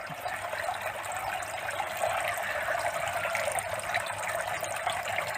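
Water drains steadily out of a snail-rearing tank, a continuous close trickling gush that holds an even level throughout with no voices.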